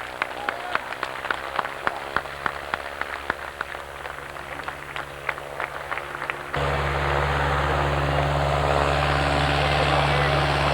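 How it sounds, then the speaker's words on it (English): A rotary aircraft engine at a radio-control model airplane show sputters with rapid irregular popping bursts, then catches and settles into a loud, steady roar, with voices faintly underneath. "I hear a rotary engine started up down below"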